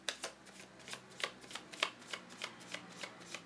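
Tarot cards shuffled by hand in a steady run of crisp riffling bursts, roughly three per second, close and fairly quiet with no talking.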